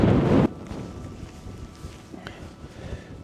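Wind gusts across an exposed fell on Binsey Fell, hitting the microphone in a loud rumbling burst at the start and then settling into a softer, steady rush.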